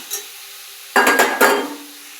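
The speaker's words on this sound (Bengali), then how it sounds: "মাশরুমটা এটা হাই ফ্লেমে 3 থেকে 4 মিনিট এইভাবে ভাজবো।" Mushrooms dropped into a hot pan over high flame after onions are sautéed, a quiet hiss followed by a burst of several sharp sizzling, scraping stirs close by.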